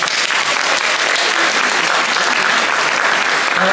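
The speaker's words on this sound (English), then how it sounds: "Round of applause for this person right now." Loud, dense applause fills a high school assembly during a presentation, a crowd clapping steadily and close for several seconds without a break.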